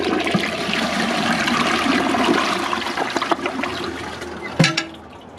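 American Standard Cadet 3 and Kohler Highline Ingenium toilets flushing: a loud, steady rush of water that holds for several seconds, then a sharp gurgling burst as the bowl empties and the sound quickly fades.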